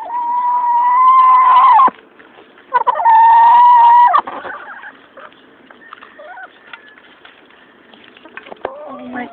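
Chickens clucking and squawking loudly in agitated bursts, two strong outbursts in the first half followed by softer, scattered clucks with faint movement sounds.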